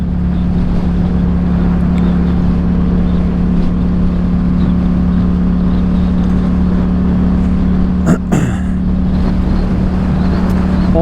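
A 2022 Yamaha MT-07 with an Akrapovic exhaust cruises on a New Mexico road, its engine a steady, loud drone mixed with constant wind rush and one brief sharp bump partway through.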